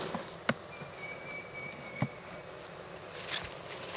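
Honeybees hum inside a hive during swarm trapping, a faint, steady low drone with a couple of small clicks and knocks on top.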